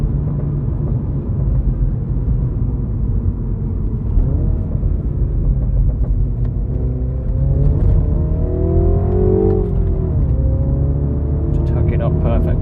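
A car in second gear on a wet B-road, its engine a steady low rumble with rising and falling revs as it accelerates through bends, heard from inside the cabin, with someone talking over it throughout.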